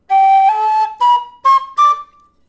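A Howard tin whistle with a balanced head plays a short phrase of four clear, bright notes stepping upward, the first held longest, the rest short and separated, loud and close.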